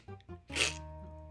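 A person mimics a pet's sneezing snort, a couple of short nasal snuffles followed by one sharp, breathy sneeze-like burst, close and fairly quiet.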